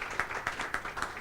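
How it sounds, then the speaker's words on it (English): Audience clapping for a panel speaker at a talent development event, a brief steady patter of many hands at moderate distance. "Please, let's put a round of applause for her."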